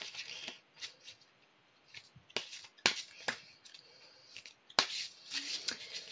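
Large oracle cards being shuffled by hand, a run of crisp riffling and slapping bursts with brief pauses between them, close and clear with no talking.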